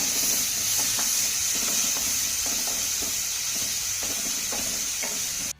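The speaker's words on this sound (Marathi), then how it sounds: "आता हा कांदा आपल्याला छान असा मौसूक होईपर्यंत परतून घ्यायचा आहे" Finely chopped onion with garlic sautéing in a pan gives a steady, close sizzling hiss, broken by regular scraping strokes as the spoon stirs through it, with no voices.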